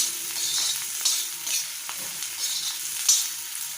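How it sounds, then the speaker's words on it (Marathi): Chopped onion sautéing in a pan for paneer rolls, a steady close sizzle with soft scraping and stirring strokes throughout and no voices. "कांदा थोडा परतून घ्यायचा"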